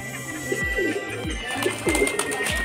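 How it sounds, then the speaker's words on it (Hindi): Pigeons coo in a steady, repeating rhythm of low throaty calls, close by, with faint background noise and no talking. "सारे कबूतर अभी खेल रहे हैं आपस में एक दूसरे के साथ"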